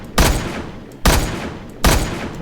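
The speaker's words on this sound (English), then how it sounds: "You can shoot off their legs." Three loud, booming gunshots fire at zombies in a video game, evenly spaced about a second apart, each with a short decaying tail and no talking.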